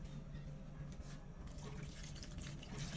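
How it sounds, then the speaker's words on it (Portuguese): Water pours from a tap or jug into a pot of diced pineapple, a faint, steady splashing stream running alone for a few seconds. "Agora eu vou colocar água,"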